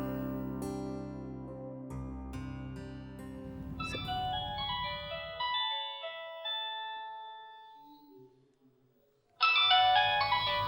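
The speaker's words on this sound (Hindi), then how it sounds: "ईमान का फोन है।" A phone ringtone plays as a melodic electronic tune for several seconds and fades out, then begins again loudly, with no voices over it.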